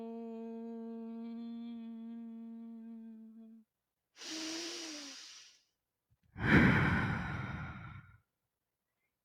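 A deep cleansing breath during a yoga class in a studio: a long audible inhale followed after a pause by a louder, breathy exhale, close and alone, preceded by a sustained sung or hummed tone.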